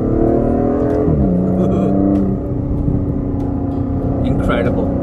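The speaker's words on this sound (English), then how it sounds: "It is dominated by that big V12 soundtrack." A V12 exhaust on an Aston Martin DBS Superleggera Volante, heard from inside the cabin with the roof up: a loud, steady engine drone that drops in pitch partway through, then holds on, with a faint clatter near the end.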